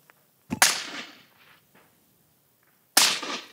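Two sharp, loud AR rifle shots fired without a suppressor, each a crisp crack with a ringing tail, spaced a couple of seconds apart outdoors.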